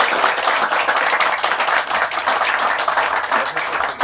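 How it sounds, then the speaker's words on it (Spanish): A lively round of applause from the audience at a book-history talk, dense steady clapping that fills the whole stretch at close range, with no talk over it. "queremos darles entonces un fuerte aplauso a nuestros invitados."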